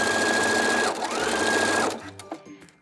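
A sewing machine back stitches elastic onto a bralette, running in a fast, steady whir that dips briefly, then stops, followed by a few small clicks.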